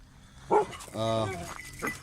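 Thai street dogs near a shop give a short bark followed by a longer whining yelp and another brief bark, close by, with some talk mixed in.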